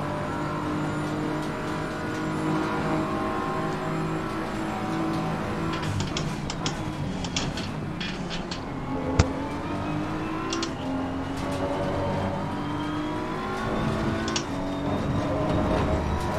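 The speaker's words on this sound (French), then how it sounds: "Je sais pas si t'as entendu le régime moteur qui est monté." Race car engine in Assetto Corsa Competizione, a sustained multi-tone drone with revs rising and falling over about sixteen seconds, fairly loud and steady, with brief sharp spikes of shifting or kerb noise and no talk.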